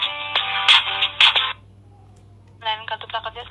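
A telephone tone sounds steadily for about a second and a half on a call to a customer service line, then breaks off into a pause before a voice begins speaking.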